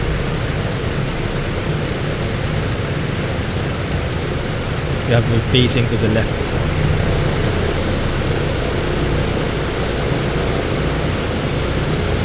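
Airliner engines run with thrust reversers engaged during pushback, a loud, steady, close broadband roar that fills the whole clip while a person talks over it.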